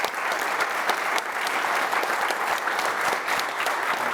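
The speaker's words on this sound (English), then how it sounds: "So give a round of applause to Don." Sustained audience applause at a formal event, dense steady clapping from a large crowd filling the room without a break.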